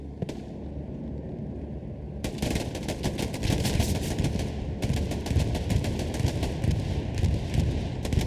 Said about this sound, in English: Bombing run does drop on the backside of the Allies.